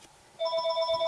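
A home phone rings after an Android phone automatically dials it from a drawn gesture, a clear electronic ring pulsing rapidly and evenly, starting partway in and continuing steadily to the end with no talk.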